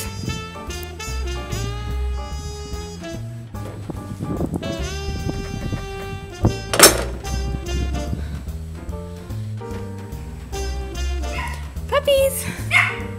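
Puppies bark and yip in a home, with voices talking over them and a steady harmonic, music-like layer running throughout.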